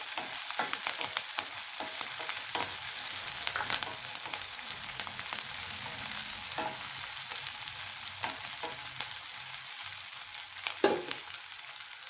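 Chopped green chillies fry in a pan for a mango pickle, a steady close sizzle with scattered sharp crackles and pops throughout, no voices.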